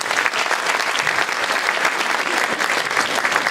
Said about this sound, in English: A round of applause for those members.